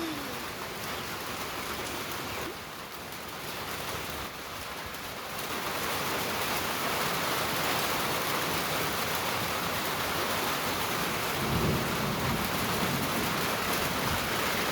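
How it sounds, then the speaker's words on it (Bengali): Steady rain pours down on surfaces outdoors, a dense, even patter that swells slightly heavier partway through and continues without talking or any distinct thunder. "সুন্দর বৃষ্টি"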